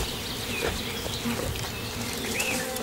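Swarming bees buzz loudly and steadily around a wild hive being raided by bears, a dense droning hum with individual insects whining close by.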